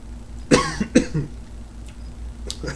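Two sharp coughs close together after a shot of tequila, followed by quieter background noise and a faint cough near the end.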